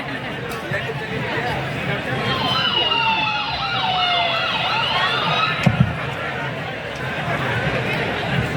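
An ambulance siren wails in rising and falling sweeps for several seconds at a Banaras Hindu University cultural fest stage performance, with crowd chatter underneath and a brief thump near the end.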